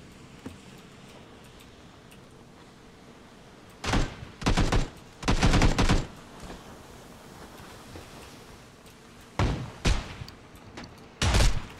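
Gunfire just outside a building in PlayerUnknown's Battlegrounds, several separate bursts of rapid shots that stop and start over a quiet background, loud and fairly near, with no voices.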